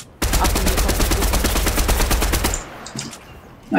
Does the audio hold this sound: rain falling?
no